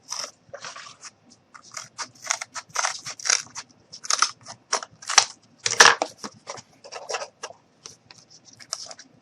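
Cardboard being cut by hand, heard as a close series of irregular crisp snips and crunches with short pauses between them.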